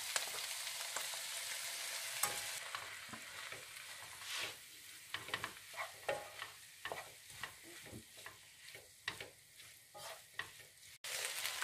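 Drained rice tossed in a pan with vegetables and ham, a steady sizzle with repeated scraping stirs and clinks of the utensil, rhythmic and close, no talk.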